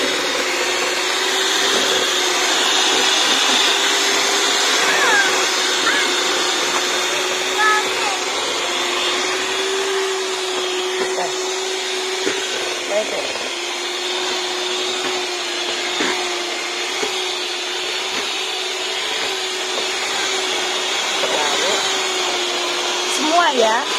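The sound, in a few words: electric mixer beating eggs for cake batter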